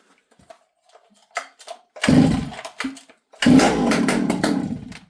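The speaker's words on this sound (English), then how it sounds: "Let's fire the saw up and see if it runs any better." A cold STIHL 064 chainsaw on full choke is pulled over: a few quiet rope pulls and faint clicks, then two loud bursts as the engine fires, sputters briefly, and catches again.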